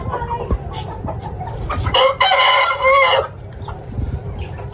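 Ayam Cemani chickens on a rooftop in Faisalabad, with a rooster crowing loudly and nearby clucking around it, all close by.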